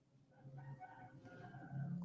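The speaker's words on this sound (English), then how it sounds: "now they're starting to cock-a-doodle-doo" A rooster crows just after the rain stops, a faint drawn-out call from a distance with a few soft clucks around it in quiet outdoor air.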